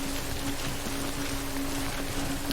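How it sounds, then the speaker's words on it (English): Steady, dense rainfall in the video game Death Stranding, a continuous even hiss of drops falling on surfaces with a faint low tone running underneath, no voices. "because it's raining right now"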